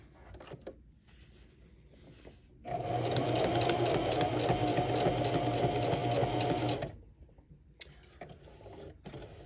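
A sewing machine runs steadily for about four seconds, stitching with a loud, even mechanical whir, set between quieter stretches of handling noise.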